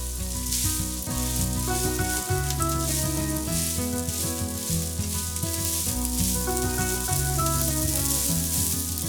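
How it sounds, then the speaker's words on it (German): Rice sizzling steadily in a hot pan for fried rice, with scrambled egg, spring onion and pepper, a dense continuous frying hiss with brief stirring shifts, loud and close with no talk. "Reis anbraten."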